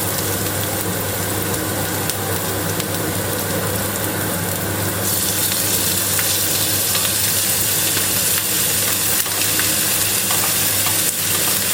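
Naem, Thai fermented pork sausage, hits a hot pan and sizzles loudly and steadily, the frying hiss growing denser partway through over a low constant hum, with no voices.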